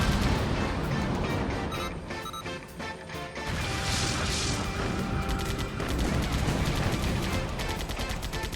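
Missiles fire in the Blue Dragon video game: a dense, continuous barrage of loud blasts, crashes and rattling impacts with no pauses.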